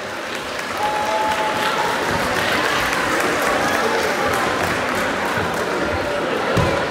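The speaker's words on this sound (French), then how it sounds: "J'aimerais qu'on les applaudisse." Audience applauding volunteers at a local community event, a steady, dense clapping that holds for about seven seconds with some crowd murmur underneath.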